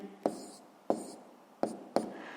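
A pen writes out a sixth-grade math solution in four short bursts of scratching, each starting sharply and fading, with short pauses between them and no talk.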